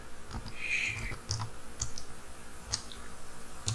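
Keys clack irregularly on a computer keyboard as a search is typed, a scattering of close, light taps with short pauses between bursts and a brief tonal beep early on.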